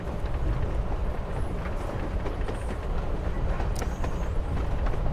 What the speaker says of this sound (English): All right, Chloe, you're on a freaking train with Рэйчel freaking Amber.